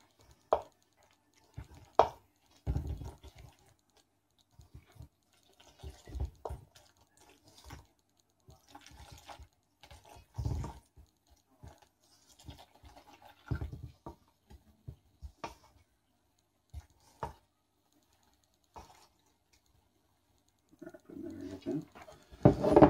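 Bread dough being mixed and folded by hand from the sides to the middle, heard as scattered soft thumps, slaps and wet squelches in an irregular rhythm, fairly close and moderately quiet, with a brief burst of busier handling near the end.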